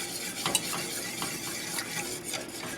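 A whisk works lasagna sauce in a pan over medium heat as it thickens, giving steady scraping strokes with a soft simmering sizzle underneath, close and continuous with no talk.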